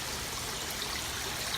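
Water overflowing and swirling slowly in an aquaponics grow bed in a duckponics system, a steady soft trickling stream with no voices over it.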